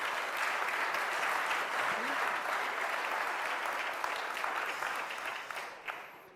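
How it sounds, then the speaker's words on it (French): An audience at a general assembly applauds steadily, a dense continuous clatter of many hands that holds evenly before tapering off near the end. "On peut l'applaudir devant lui."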